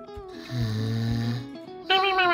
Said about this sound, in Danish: Men han snorker som en gris.